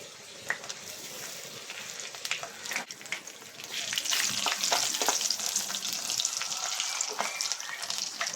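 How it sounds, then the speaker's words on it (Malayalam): Dried red chillies fry in coconut oil in a pan for a Kerala-style fish chammanthi, giving a steady crackling sizzle that swells louder about halfway through, with occasional stirring clicks. "ആദ്യം നമുക്ക് വറ്റൽമുളക് വറുത്തെടുക്കാവേ."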